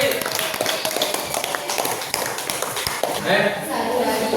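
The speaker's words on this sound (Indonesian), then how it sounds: "Tepuk tangan untuk kelompok C." A classroom group of students claps for a presenting group, with sharp, uneven hand claps and shuffling mixed with voices talking throughout.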